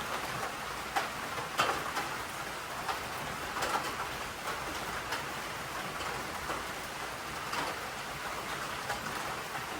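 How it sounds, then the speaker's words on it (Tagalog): Steady rain patters softly in the background on a farm at night, with scattered sharper drips and taps; no voices. "Ayaw tumila ng ulan guys"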